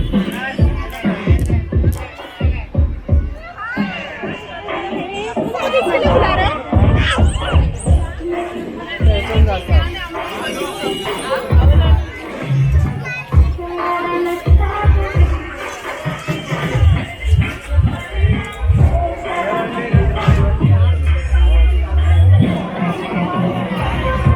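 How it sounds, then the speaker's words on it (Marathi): Dense crowd chatter and babble at a busy Malvani Konkani food festival in Bhandup, Mumbai, a steady loud hubbub of many voices with occasional cheering-like swells throughout. "आणि खूप सारी गर्दी आहे तिकडे"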